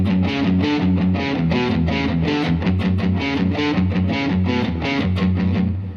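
Palm-muted, distorted electric guitar chugs in a steady driving rhythm with a little reverb added, each muted note slightly smoothed by a short ambient tail, loud and continuous with no talking.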